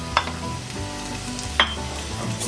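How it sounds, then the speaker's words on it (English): Chopped onion is stirred into home fries in a cast iron pan, with a steady frying sizzle under two sharp scrape-clicks of the utensil, close and without talk. "Mix this in, cooking."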